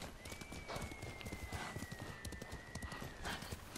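Hooves clop steadily and rapidly as a horse gallops in the video game Ghost of Tsushima, with a thin whistling tone running over the hoofbeats throughout.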